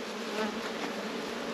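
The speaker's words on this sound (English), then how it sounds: "there's a lot of bees in these boxes." Honey bees buzz densely around honey super hive boxes, a close, steady, continuous drone with no voices.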